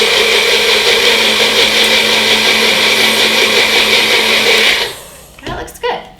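Countertop blender whirring at high speed as it mixes chai concentrate with thick honey and spices, a loud, steady motor roar that cuts off near the end, followed by brief clattering handling sounds.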